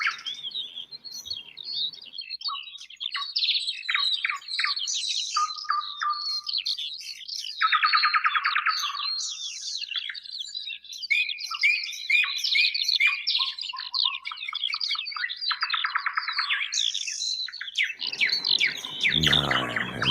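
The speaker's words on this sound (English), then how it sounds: "Let's have some silence and birds" Several birds sing and chirp outdoors in a steady, busy chorus of varied whistles and tweets, fairly close and continuous, with no talking over them.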